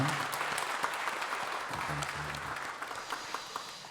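Applause of thanks from a church congregation at a Sunday service marking the church's 90th anniversary, steady moderate clapping across the whole stretch, with a few sharper individual claps standing out.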